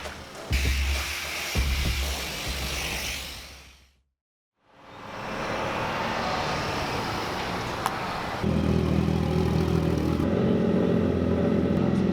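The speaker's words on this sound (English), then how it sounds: "now we get to sit through some traffic" Road traffic rumbles with engines droning and vehicles passing; a brief hush midway, then a steady heavier engine hum continues.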